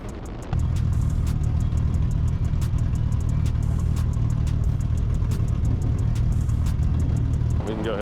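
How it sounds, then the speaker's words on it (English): Honda Integra Type S DE5 engine held at full throttle on a racetrack, a loud sustained drone running steady for several seconds before easing off near the end, with a voice talking over it. "Full throttle."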